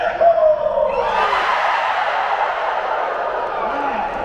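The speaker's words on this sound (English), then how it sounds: "Let me get a cheer!" A huge crowd of over 12,000 at the D23 Disney showcase roars in a sustained, loud cheer with whoops, filling the space continuously from start to finish.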